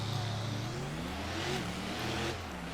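Racing trucks launch off the line at a race track in Pontiac, Michigan, engines revving and rising in pitch together, a continuous loud roar heard from a moderate distance.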